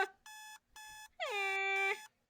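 An electronic alarm clock rings in the video game Butterfly Soup 2: two short, bright beeping bursts, then a longer, louder ring whose pitch sweeps upward. It is close and clear, with silence between the bursts.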